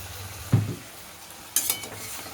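Food gets stirred in a cooking pot, two short scraping clatters of the spoon against the pot a second apart over a faint low sizzle, close and quiet with no talk.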